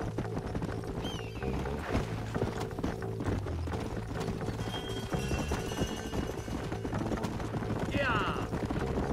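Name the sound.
horses clip-clopping in video game Red Dead Redemption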